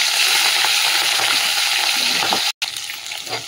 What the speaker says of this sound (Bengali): চলো কড়াতে তেল দিয়ে কাঁটাগুলো ভেজে নিই।